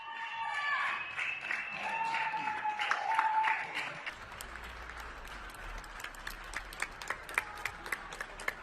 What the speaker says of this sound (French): Puis se sont succédés des tonnerres d'applaudissements collectifs